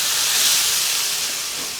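Tomatoes sautéing in a pan with onions for a mutton curry, a loud, steady steamy hiss that fades slightly toward the end, no voices.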